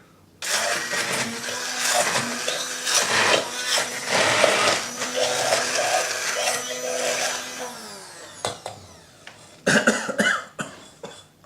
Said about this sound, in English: Now I'm going to blitz it up using the Bosch Maxo Mix